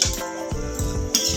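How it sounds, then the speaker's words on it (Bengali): A spoon stirs pumpkin stems and leafy greens in a metal cooking pot, giving a few scraping, clinking strokes close by with a low simmering wash underneath. "আমি আরেকবার সবজিটাকে নেড়ে চেড়ে দেবো।"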